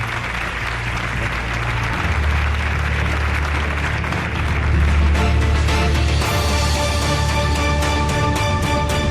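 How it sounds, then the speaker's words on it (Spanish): A studio audience applauds on a Spanish television show, a dense, steady clatter of clapping throughout, with music starting to rise beneath it toward the end. "os pido un aplauso para ellos"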